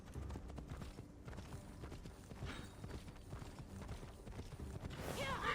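A horse's hooves clop at a steady rhythm in the video game Immortals Fenyx Rising, quiet and somewhat muffled under game ambience, without any talk.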